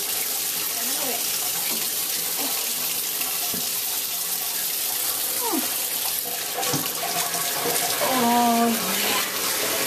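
Running water pours steadily from a tap while a puppy is rinsed of soap in a bath, a continuous close splashing gush with small squeaky whimpers rising over it.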